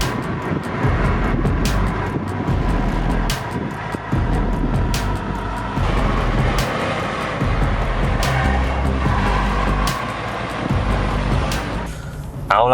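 Honda City Hatchback RS with a 1.0 litre engine driving through a curve in sport mode, a steady loud engine drone and road roar inside the cabin with no talking.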